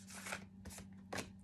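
A deck of oracle cards is shuffled by hand in three quick, crisp riffling bursts, close and fairly soft over a low steady hum, with no talk.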